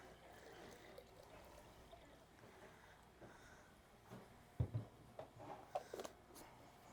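Water is poured through a dry loamy soil sample in an outdoor soil texture demonstration, with a soft trickle that builds into a few splashy gurgles and drips near the end, moderately close and without talk.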